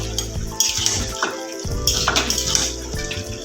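Cooked vegetables stirred in a covered pan, with clinking metal utensil and pot sounds, a lid being moved and soft scraping, close by in a kitchen.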